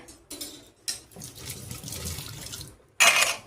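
A tea strainer gets rinsed under a running tap, with water splashing and gushing in short bursts and small metallic knocks, ending in a louder rush of flow.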